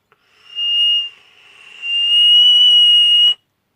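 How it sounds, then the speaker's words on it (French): A dripper atomizer on a vape tugboat box setup whistles while being puffed, a thin high-pitched steady tone in two draws, a short one then a longer sustained one, close and alone. "le dripper siffle et c'est très gênant"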